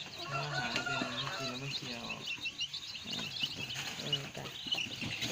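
Small chickens, just released after hours shut in a car on a long trip from home, cluck and chirp steadily up close, while someone talks over them throughout.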